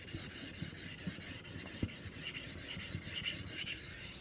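Machete being sharpened on a 1000-grit Japanese whetstone, a steady series of soft rasping strokes in an even back-and-forth rhythm, close and quiet with no talking.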